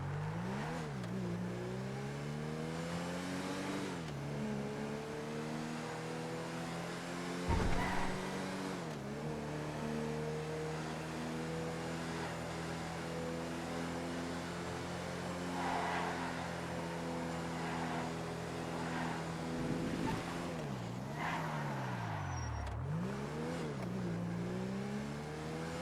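An SUV four-seater on a video game test drive, its engine droning steadily with rising and falling pitch as it revs and eases off, plus a brief thump, continuous and with no talking.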